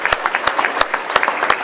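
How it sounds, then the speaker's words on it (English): A brief round of applause at a school board meeting, a small group clapping, with a few crisp claps near the front. "how about one more round of applause for those 2 campuses"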